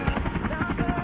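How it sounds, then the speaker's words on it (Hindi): Helicopter rotor chop in a car stunt mobile video game, a steady dense whirring with a soft pulsing beat, moderately loud and continuous throughout. "यह हेलीकॉप्टर चल रहे हैं यहाँ पर"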